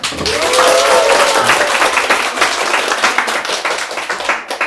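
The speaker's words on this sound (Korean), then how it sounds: "그러면 큰 박수 부탁드릴까요?" Big round of applause from an audience at a real estate agents' regional briefing session, loud and dense at first, then loosening into scattered individual claps toward the end.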